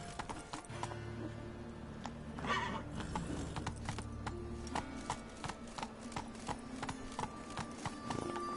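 Roach the horse gallops in The Witcher 3, rapid clip-clop hoofbeats with a brief neigh partway through, steady and close.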